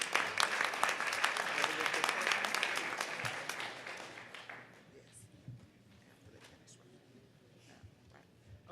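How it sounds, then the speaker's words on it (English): Audience applause at an NAACP hearing in Memphis, Tennessee: a dense, steady burst of clapping for several seconds that then thins and dies down into quieter room noise with a few stray claps. "another round of applause"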